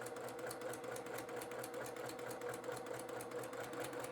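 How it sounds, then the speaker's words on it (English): A sewing machine stitches curved patchwork fabric pieces at a slow, gentle pace, a steady close mechanical whir with rapid even needle ticks throughout, and no speech. "You'll notice I'm also going at a fairly nice and soft pace at the machine."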